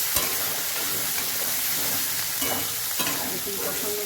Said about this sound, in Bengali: কষিয়ে নিচ্ছি।